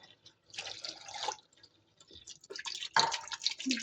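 Two cups of water are poured into a cooking pot to make sugar syrup, heard as two quiet, close splashing pours separated by a short pause.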